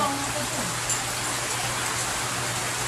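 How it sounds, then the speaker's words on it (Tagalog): Dense, steady hiss of heavy rain pouring down, constant and enveloping, with no gaps. "Super lakas ko dito ng ulan."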